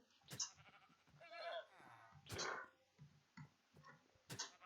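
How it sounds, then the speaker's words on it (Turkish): Sheep bleating in Minecraft: several short, wavering bleats heard fairly close, with sharp clicks and bursts of game sound between them. "Koyun yürü git."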